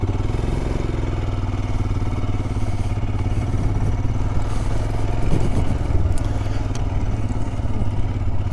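A Royal Enfield Scram 411 motorcycle rides an old off-road trail in the UK, its engine a steady, loud, close rumble with some rattling clatter throughout and no talking.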